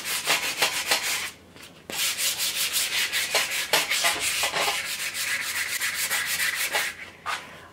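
Axe handle sanded by hand with 100 grit sandpaper, rapid rhythmic back-and-forth scratchy strokes up close, with a brief pause partway through.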